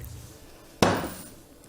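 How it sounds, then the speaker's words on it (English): A single sharp hammer blow flattens a small piece of soft indium metal, ringing briefly and fading away after the strike, with faint background noise before it. "And once he got it out, being Neil, he couldn't resist the hammer again, and so he hammered it again almost flat"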